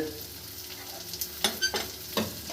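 Shredded cabbage and carrot frying in a wok for egg chicken chow mein, a faint background sizzle broken by a few short bursts of stirring and tossing near the end.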